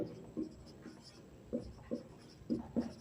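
Pen scratching on paper while math equations are written out by hand, a series of short, faint strokes in uneven bursts with brief pauses between them, close up.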